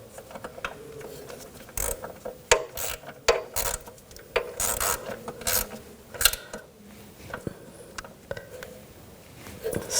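Hand ratchet tightening a bolt on the rear lower outer ball joint of a 2000-2006 BMW X5, soft close clicking in uneven strokes with occasional metallic knocks and rubbing, fairly quiet and with no speech.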